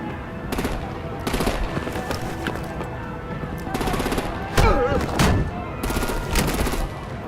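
Bursts of rapid automatic gunfire in Batman: The Enemy Within, loud and close, arriving in repeated volleys and mixed with game sound effects.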